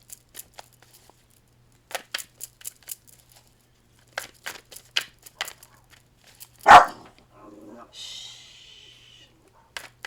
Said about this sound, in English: It's my guard dog, you all. She's my little rat terrier.